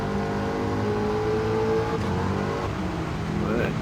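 Eckert's Rod and Custom Mach Forty accelerates around Circuit de La Sarthe in Gran Turismo 7, a loud, continuous engine drone that climbs steadily in pitch, with a brief shift near the end and no talk.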